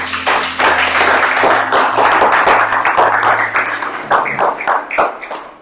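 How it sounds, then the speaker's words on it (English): Applause from a small audience welcoming a presenter, close, sharp individual claps forming a loud, steady patter that thins and tapers off toward the end. "I would appreciate a clap from my brother Simone as he gives a presentation about himself."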